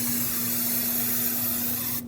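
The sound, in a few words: brake parts cleaner sprayed onto a brake rotor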